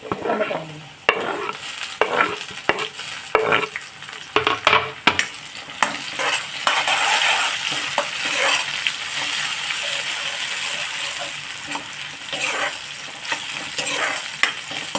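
Onions sizzling in a pan on a gas stove while a spoon stirs them, steady frying crackle with scraping and clinking strokes, close and moderately loud.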